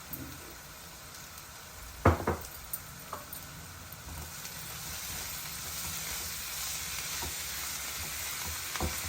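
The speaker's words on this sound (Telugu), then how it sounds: "ఉల్లిపాయలు ఇలా వేగుతున్నాయండి" Chopped onions with a little salt fry in a pan for chicken liver curry, giving a steady soft sizzle throughout with a few sharper clicks and scrapes of stirring near the start.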